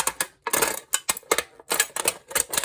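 Scissors cut strips of paper in quick bursts, crisp snipping strokes coming in short irregular runs with brief gaps, close by and without talk.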